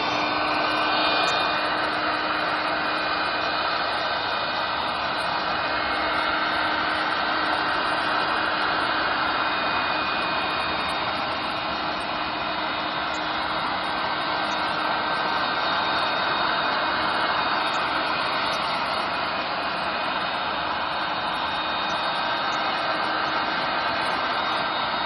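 A heat gun blowing on Oracal vinyl film gives a steady, loud whooshing hum that runs without a break from start to finish, with no talk.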